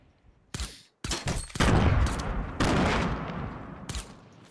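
Gunfire in a gunfight rings out as close, loud shots: single cracks first, then dense rapid volleys with echoing tails, and the firing fades toward the end.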